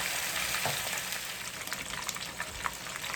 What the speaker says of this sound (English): So I'm going to fry this.